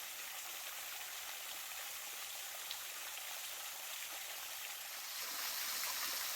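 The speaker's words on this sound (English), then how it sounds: "Located about 25 or 30 yards off the trace is the Owens Creek Waterfall." Owens Creek Waterfall pours steadily as a faint, continuous hiss of falling water heard from a short distance, with no voices.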